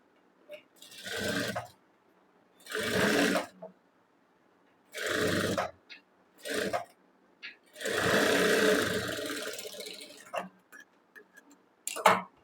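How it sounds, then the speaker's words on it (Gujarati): Sewing machine running in short bursts while stitching along the folded edge of a kurti lining, each whirring run lasting one to two seconds with quiet pauses and small clicks between them. "એ પહેલા આપણે આ રીતે અસ્તરને વાળીને અસ્તર ઉપર ધાર સિલાઈ લગાડવાની છે"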